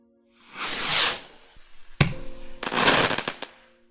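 Fireworks and rockets burst at a crowded dawn celebration: a loud swelling hiss and roar, then a sharp crack followed by a rapid, crackling volley of firecracker pops, with no voices.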